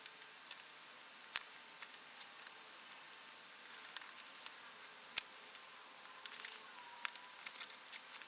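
Scissors snipping paper for a surreal collage: faint, close snips and small ticks scattered irregularly through near silence, with a couple of sharper clicks standing out.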